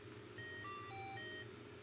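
A professional calculator gives a short electronic beep melody of a few clear stepped tones, faint and lasting about a second.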